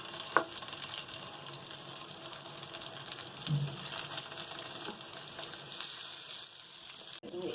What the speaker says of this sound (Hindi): ये जो हमारे शामी कबाब है इनको हम फ्राई कर लेंगे